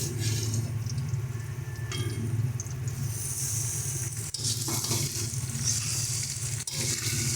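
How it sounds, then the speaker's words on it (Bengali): Cooked rice hits a hot pan for homemade fried rice, raising a loud, steady hiss of frying with a couple of brief clatters as it is stirred. "তো এবার এর মধ্যে আমরা ভাতটা দিয়ে দিচ্ছি"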